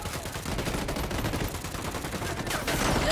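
Continuous rapid gunfire in Ghost Recon Wildlands, a dense burst of shots crackling steadily for about three seconds, fairly loud with no talk over it.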